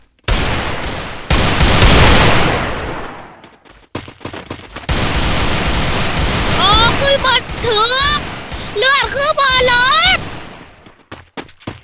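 Dense bursts of automatic gunfire rattle loudly in a Free Fire match, dropping out and returning in several volleys, with whistling pitched effects and a voice speaking in between.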